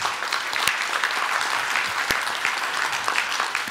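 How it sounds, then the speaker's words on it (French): An audience applauds at the closing of an event's 11th edition, even continuous clapping at moderate volume with a few sharper claps standing out. "Alors, on les applaudit."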